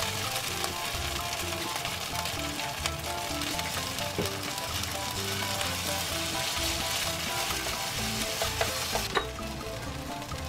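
Eggplant fries in a pan with Chinese chili sauce, a steady, close, dense sizzle that continues evenly throughout, with no talk.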